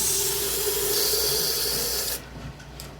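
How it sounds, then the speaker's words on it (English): Water pours with a steady hissing splash into a rock tumbler barrel for about two seconds, then cuts off abruptly, leaving faint drips and handling noise. "Alright, time to add a little water."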